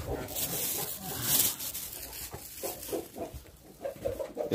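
Indoor hens sheltering from the winter frost give soft, scattered clucks nearby, with rustling and low background noise between the calls.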